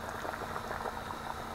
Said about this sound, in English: There, the potatoes are cooking away.